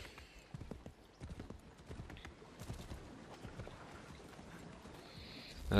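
Horse hooves clip-clop in a steady, fairly quiet rhythm as a horse is ridden through Boston in Assassin's Creed III, with light game ambience around it.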